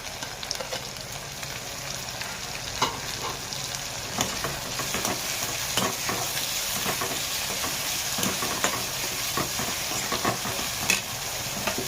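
Onion and tomatoes frying in a pan for a Maharashtrian masala, with continuous close sizzling and frequent scraping stirs and clicks throughout.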